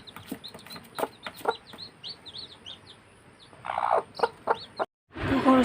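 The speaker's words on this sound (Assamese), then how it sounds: "আমাৰ মুৰ্গী উমনি দিয়া পোৱালি ওলাল" Chickens cluck close by as a hen moves with her newly hatched chicks, whose thin high peeps chirp repeatedly over the clucking, which is broken by a brief silent gap before louder clucking resumes.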